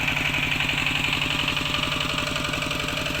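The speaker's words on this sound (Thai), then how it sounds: "สูบน้ำขึ้นไปลดต้นผลไม้ข้างบนค่ะ" Engine-driven water pump running steadily while pumping water uphill to fruit trees on a farm during a dry season, a continuous close mechanical chug with even rhythm and no talk.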